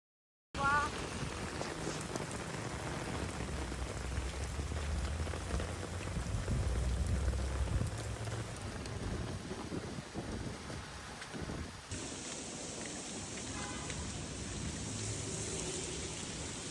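Heavy monsoon rain pouring down in Mumbai, a dense continuous hiss of drops spattering on surfaces with some wind buffeting the microphone, loud and close throughout with no clear talk.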